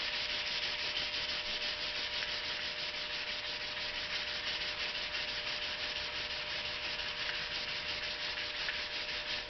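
240-grit sandpaper sanding a repair on a Jeep Commander fender flare, a steady, close, continuous rasping scrub with no talk.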